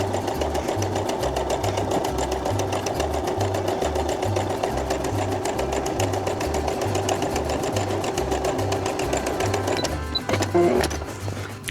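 Sewing machine stitching wadding for a puffy patchwork laptop sleeve, a steady fast mechanical whirr with regular ticking pulses, close and continuous, stopping near the end.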